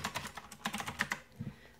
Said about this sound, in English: So let me just type a sentence here.